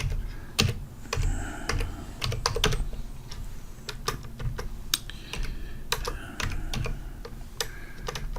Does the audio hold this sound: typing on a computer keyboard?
yes